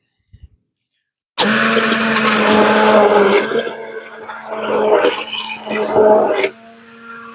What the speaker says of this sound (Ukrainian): Наші томати пілаті нам потрібно перебити блендером.